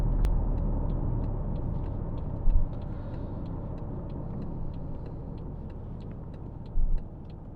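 A 2015 BMW 520i F10 with a 1.6 turbo petrol engine pulling over to the roadside, a steady low cabin rumble of engine and road noise with faint ticking and two brief bumps.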